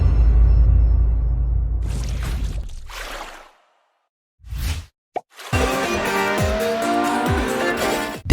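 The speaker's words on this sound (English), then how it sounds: "The classic racing game Horizon Chase 2 is our next mention." Racing car engine and tire squeal from the mobile racing game Horizon Chase 2: a low engine rumble fades out, then swooshes and a brief pop lead into a loud rising engine whine with squealing tires.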